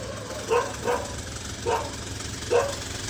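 Dogs outside an animal shelter bark at a scooter rider, giving four separate woofs spaced about a second apart, fairly close over a constant low outdoor hum.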